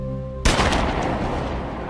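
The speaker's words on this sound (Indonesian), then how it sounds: "tiba-tiba Lai menembak ayahnya sendiri di belakangnya" Gunshot in a movie scene, a single loud, sharp blast that cuts off a quiet musical tone and leaves a ringing, decaying echo.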